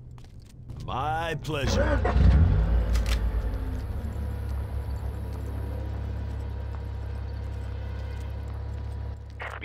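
A game vehicle in the Far Cry swamp level idles and drives with a steady low engine rumble that holds for several seconds after a short spoken line and a brief sharp clatter near the start.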